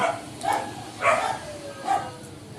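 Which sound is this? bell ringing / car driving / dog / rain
dog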